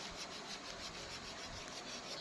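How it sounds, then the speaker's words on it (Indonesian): Wet sanding of car body filler with 240-grit waterproof sandpaper on a bumper repair, a steady soft rasping scrub with a faint rhythmic back-and-forth, quiet and continuous. "kita lakukan proses pengamplasan guys menggunakan amplas 240, amplas basah ya"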